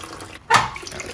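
Coolant gushing out of the heat exchanger lines on a 2003–2004 Cobra once a cap is removed: a single sudden watery rush that starts after a short silence and trails off over under a second.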